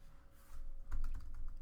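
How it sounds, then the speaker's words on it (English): Quick keystrokes on a computer keyboard, a short burst of soft, close clicks over a quiet background. "I'm going to go ahead and type in the length."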